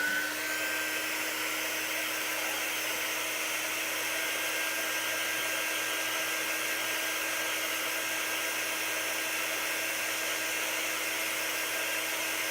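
A hair-dryer-style heat tool drying a cocktail coaster, running as a constant, close whooshing drone with a steady high whine throughout, no speech over it.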